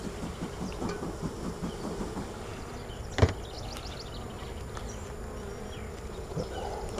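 Honey bees drone steadily around an open hive during an inspection, a dense close buzz punctuated by one sharp thump midway as equipment is set down.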